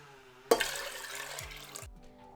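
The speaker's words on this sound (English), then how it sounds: "pour in enough cold water to cover." Cold tap water poured into a large pot of cut pork ribs, a sudden splashing gush that runs for over a second, then stops, with soft background music underneath.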